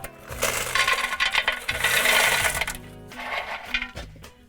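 19mm building stone drainage pebbles poured into a plant pot, a loud rattling, clattering cascade in bursts with short pauses, hard stones clinking against one another.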